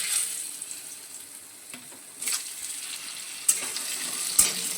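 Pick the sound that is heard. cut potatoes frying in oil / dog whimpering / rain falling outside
cut potatoes frying in oil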